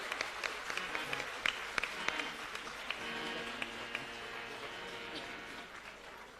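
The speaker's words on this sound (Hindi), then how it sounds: "एक बार जोरदार तालियों से आप आभार करें और अभिनंदन करें।" A school audience applauds at a government school of specialized excellence, with steady crowd clapping and sharp individual claps standing out; the applause is moderately distant and continues for several seconds without voices over it.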